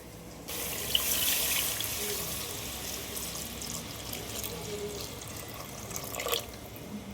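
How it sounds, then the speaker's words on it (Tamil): Water pours steadily into a cooking pot for chicken biryani, a continuous splashing rush that begins abruptly after half a second and runs at moderate level with a brief louder swell near the end. "பிரியாணிக்கு தேவையான அளவுக்கு தண்ணி ஊற்றிக்கலாம்."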